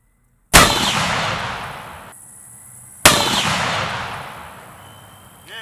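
Two loud, sharp blasts from a Sharps Borchardt .45/120 rifle ring out about two and a half seconds apart, each followed by a long echoing decay, with no talking.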